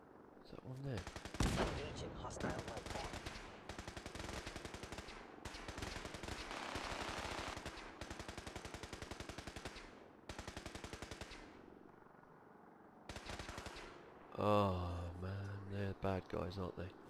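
Rapid bursts of automatic gunfire from the Fallout 4 video game, loud and sustained across the clip with short pauses between volleys, ending with a heavier blast.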